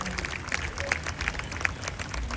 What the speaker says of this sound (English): Pa'i Lima, a round of applause for Trenton, our Pukani.